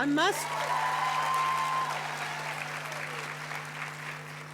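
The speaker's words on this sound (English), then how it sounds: "Another round of applause." Audience applause at a university graduation ceremony, a loud sustained wash of clapping from a large crowd that slowly tapers, with a steady low hum and a brief sung or spoken tone over it.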